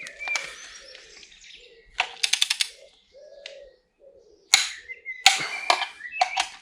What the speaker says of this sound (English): And torque it up to 50 pounds-feet.